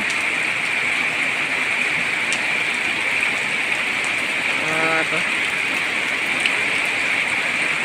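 Steady rain falls in a constant, even hiss of drops on surfaces close by, with a brief voice-like sound partway through.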